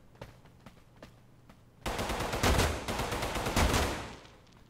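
Automatic gunfire in the video game Totally Accurate Battlegrounds, a few sparse shots followed by a loud sustained burst of rapid fire with heavy echo, close.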